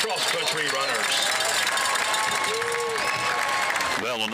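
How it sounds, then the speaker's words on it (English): An audience applauding DHS cross-country runners at a school event, with dense continuous clapping and crowd noise under voices throughout. "Let's have a big round of applause for our DHS cross-country runners."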